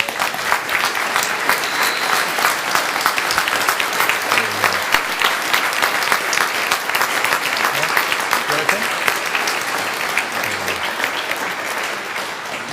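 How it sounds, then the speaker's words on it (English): Sustained applause from a summit audience, dense and steady clapping throughout, with faint voices underneath. "A round of applause."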